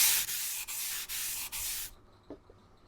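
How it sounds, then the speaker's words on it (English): Power sanding of a wooden fence picket for a rustic nativity scene, a steady hissing rasp broken by four brief dips in pressure, then cutting off into near quiet with a faint knock. "we'll get some sanding done"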